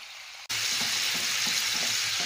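Egg and pork frying in soy sauce and vinegar in a pan, a loud steady sizzle that starts suddenly and continues with faint crackles and stirring scrapes, close by.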